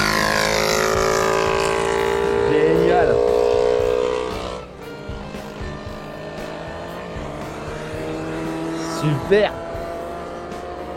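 Royal Enfield GT Cup 650 motorcycles race around a circuit, their engines rising and falling in pitch as they pass at a distance, while a person exclaims briefly over the noise.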